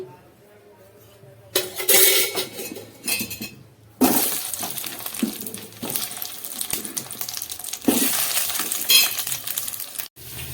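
Chopped ivy gourd fries in a pan with two spoons of oil, bursts of sizzling hiss alternating with clinks and scrapes as it is stirred, fairly close.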